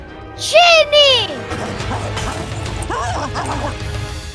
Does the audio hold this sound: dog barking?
yes